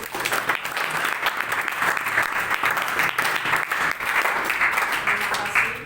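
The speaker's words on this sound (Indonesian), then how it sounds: "Kita tepuk tangan dulu." A room full of people claps for the newly installed student senate chairman, a dense, steady round of applause lasting several seconds at fairly close range, with a few indistinct voices underneath.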